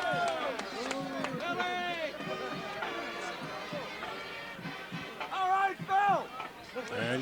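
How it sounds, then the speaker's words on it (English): A small crowd of guys at a 1992 East Brunswick high school football game against Woodbridge cheers and shouts for the chain gang, overlapping voices rising and falling, with a louder burst of yells near the end. "you hear the guys a little cheer for the chain gang"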